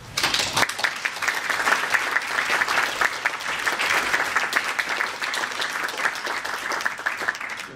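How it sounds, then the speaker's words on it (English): Sustained applause from a conference audience honouring a supporter of an ME/CFS centre, dense clapping that continues loud and steady throughout with no talk over it. "So I think Dwight, you need a round of applause."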